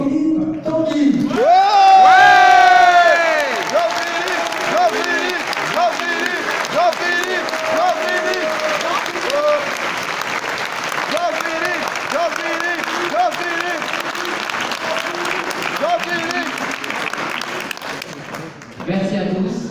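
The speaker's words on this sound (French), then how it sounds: "je vous demande de l'accueillir comme il le mérite par un tonnerre d'applaudissements" A political rally crowd in Cambrai cheering and applauding a speaker's entrance, a loud sustained roar of clapping, whoops and shouts with rising cheers early on, continuing steadily for nearly twenty seconds before cutting off.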